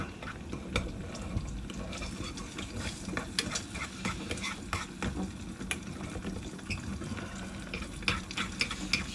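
An egg cooks in a camping frying pan, giving a close steady sizzle and crackle over a low rumbling background with occasional sharper spits, and no voices.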